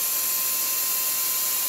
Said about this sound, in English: Boy, this air drill.